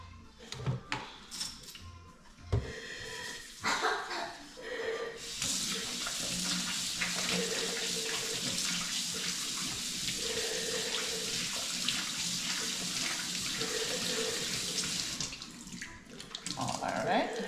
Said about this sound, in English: So let's get our hands all washed.